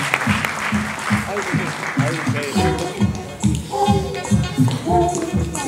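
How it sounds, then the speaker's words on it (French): An audience at an improv theatre festival in Paris applauds over a steady, thumping bachata-style music beat. The clapping is constant and mid-loud, with voices and sung melody woven through it. "Vous pouvez les applaudir très très fort."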